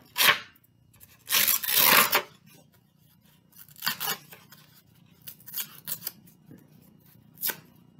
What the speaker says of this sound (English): So you'll take the pink piece of paper and we're going to rip it into little pieces.